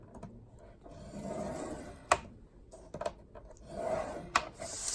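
Cardstock is scored for a paper box with faint rubbing strokes and a few small clicks and taps, close by and quiet, with no talking.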